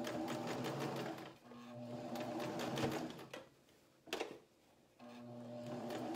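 A sewing machine stitches a bib in the hoop, whirring steadily in several runs with brief pauses and a clack between them, close and fairly quiet.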